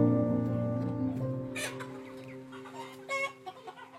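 Laying hens in a poultry building of about 6000 birds cluck and murmur together, a close, steady flock chatter that fades slightly, then gives way to a few sharper individual clucks.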